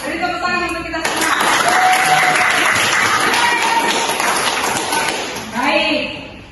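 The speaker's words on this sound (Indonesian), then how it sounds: "Beri tepuk tangan untuk kita semua." Applause in a classroom during a teaching session, a dense burst of clapping that starts abruptly, holds steady for about four seconds, then tapers off as a voice begins speaking.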